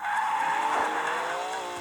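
A voice imitating a car skidding: a sustained tonal, screechy squeal held for about two seconds, close and fairly loud, wavering slightly in pitch.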